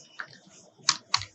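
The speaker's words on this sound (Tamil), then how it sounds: "லைட்ஸ் PNG அப்படின்னு டைப் பண்ணுறேன்." Typing on a computer keyboard: a few quick, crisp clicky keystrokes, one soft tap, then three sharper presses in an uneven rhythm, close and alone.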